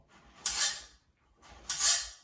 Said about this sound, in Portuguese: eu vou cortar ela numa espessura um pouquinho menor